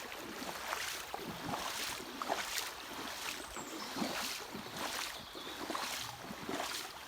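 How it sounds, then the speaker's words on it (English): People wading through the shallow water of a small burn, with repeated rhythmic splashing and swishing steps, moderately close and fairly soft, with no talk. "Can you hear all that noise? That's us trying to walk through the water."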